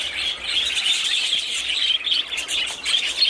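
Dense, continuous chorus of pet budgies chirping and chattering up close, high-pitched and busy without pause.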